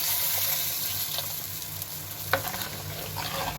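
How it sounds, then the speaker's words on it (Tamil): Soaked tamarind curry liquid poured into sautéed onion and tomato in a clay pot for fish curry, a hissing sizzle with bubbling and a stir clink midway, close and steady without talk. "இந்த ஸ்டேஜில் நம்ம கரைச்சி வச்சுருக்க குழம்பு இதில் ஆட் பண்ணிக்கலாம்."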